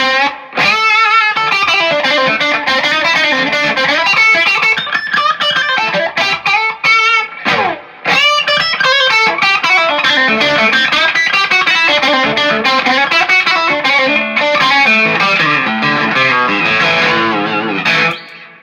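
A Stratocaster electric guitar with Diliberto pickups plays through overdrive and booster pedals, giving a loud, sustained, distorted tone with a continuous run of notes and chords and brief pauses, and no voice over it.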